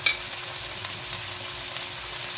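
Pork adobo frying in a pan as it gets stirred, a steady bright sizzle running throughout with faint scrapes of the spoon, close and unbroken with no talking.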